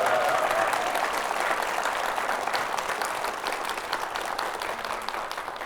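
Sustained audience applause at a Korean lecture show, a dense steady clatter of many hands from start to finish that eases slightly toward the end, with no talking over it.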